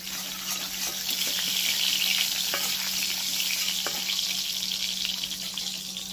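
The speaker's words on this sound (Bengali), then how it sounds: "তেলটা হালকা গরম করে নিয়েছি, এর মধ্যে দিচ্ছি গোটা গরম মশলা, হালকা করে একটু ভেজে নেব" Whole garam masala spices frying in lightly heated oil in a kadai, a steady close hiss of sizzling with faint crackles and a few soft clinks, continuous throughout with no talking.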